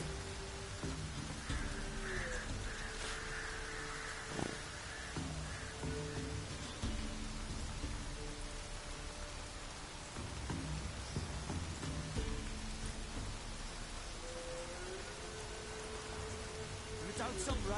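Steady, dense rain falls continuously in The Witcher video game, a close wash of droplets that holds throughout, with faint tonal game sounds and a voice drifting underneath.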